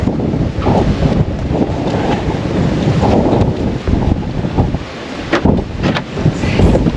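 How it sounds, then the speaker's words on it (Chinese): Strong level-7 blizzard wind with heavy snow roars and buffets a camper van parked in Inner Mongolia, a loud, continuous rushing gale with surging gusts close to the microphone. "看一下外面的风，"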